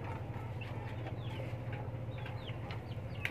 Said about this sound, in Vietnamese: mình sẽ tiếp tục vào cho mấy cái chú gà tre của mình ăn